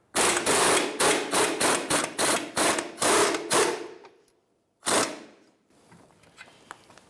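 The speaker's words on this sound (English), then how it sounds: "I'll take a 17mm socket and let's loosen this bolt up." A 17mm socket on a ratchet loosens a rear coil spring bolt on a 2013-2018 Toyota RAV4: a quick run of loud, close metallic clicks, a brief pause, one more burst, then faint tinkering.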